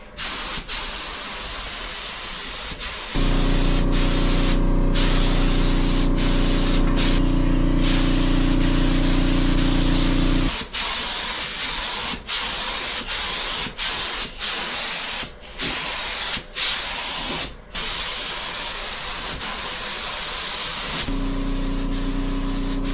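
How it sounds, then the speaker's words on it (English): Spray gun hissing as clear coat is applied to a mini Ford F150 truck model, a steady close spray in long bursts with a compressor-like drone underneath and short pauses between passes. "start painting the truck itself with some clear coat"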